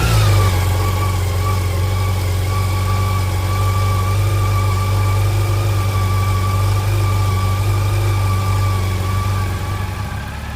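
A Yamaha FJR 1300 motorcycle engine idles steadily in neutral during a throttle body sync, a loud, even hum that holds unchanged from start to finish with no voices.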